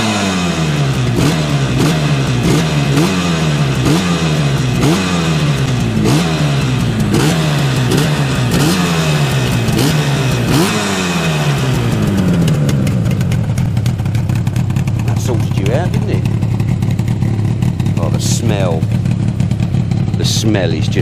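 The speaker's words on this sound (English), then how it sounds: "That lovely two-stroke smell, that lovely two-stroke sound." A 1973 Yamaha RD250 two-stroke motorcycle, mint and original, revs repeatedly in sharp rising bursts before settling into a loud, close, burbling idle, with people talking over it.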